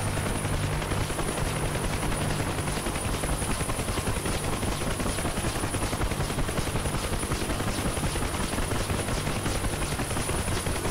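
UH-1H Huey helicopter landing in the DCS flight simulator, a steady dense rotor and turbine drone with a thin high whine, constant and even throughout with no talk.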